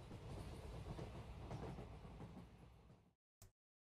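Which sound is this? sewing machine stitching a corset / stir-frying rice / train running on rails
train running on rails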